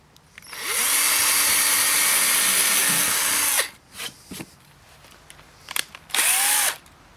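A power drill driving screws into tongue-and-groove wooden floorboards for a tiny house, a loud close whine that runs for about three seconds, then short bursts and a second brief run.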